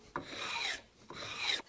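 A spokeshave shaves a wooden hammer handle, giving two quick rasping strokes in a row, each a dry scraping rub close up in a quiet room.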